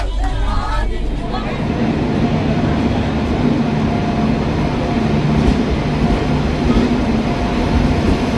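Interior of a moving passenger train on a long-distance Indian rail journey: a steady, loud rumble and rattle of the carriage runs throughout, with a background babble of passengers' voices.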